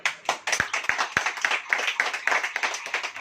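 Congregation clapping hands during a Hindi church sermon, a smallish group producing fairly distinct, uneven claps close by, with no speech over it.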